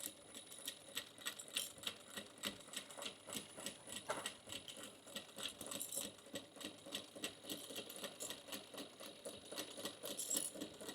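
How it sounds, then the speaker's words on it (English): A sewing machine stitching a beginner retro bag: a rapid, steady mechanical clatter of the needle running continuously and fairly close, with no talking. "Back stitch, and then work my way down, keeping my fingers away from that needle."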